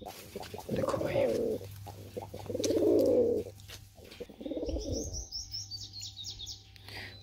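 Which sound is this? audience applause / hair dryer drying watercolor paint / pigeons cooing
pigeons cooing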